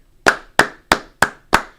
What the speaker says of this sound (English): 5 claps